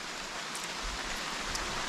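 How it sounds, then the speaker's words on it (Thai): Rain falls in a forest near a fruit orchard as a steady, even hiss of drops spread over the surroundings, fairly soft and unbroken, with no voices. "ตอนนี้ฝนก็ เริ่มมา เรื่อยๆแล้วนะคะ"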